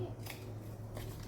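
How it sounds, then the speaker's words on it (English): Scissors snip paper flaps on a craft journal, two quick faint cuts close by against a low background hum. "So you just take off a snip in that direction."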